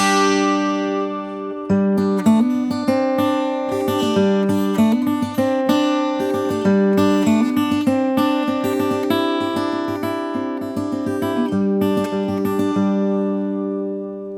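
Acoustic guitar in Nashville high strung tuning, a cheap guitar strung with bright, high-octave strings, picks out a lively melodic pattern with shimmering, jangly notes, playing steadily and close for the whole stretch with no voices.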